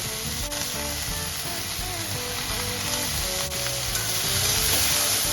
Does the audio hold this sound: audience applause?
no